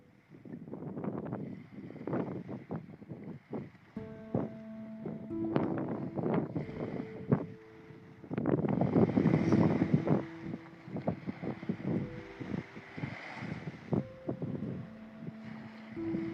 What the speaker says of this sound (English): let's just enjoy a couple more seconds of the waves at the beach